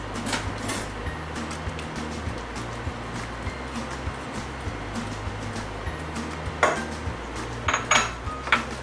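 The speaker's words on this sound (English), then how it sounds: "Mix your yolks and sugar well" Egg yolks and sugar being mixed in a large bowl, steady whisk taps and scraping against the bowl over a low background hum, with louder clinks of utensil on bowl toward the end.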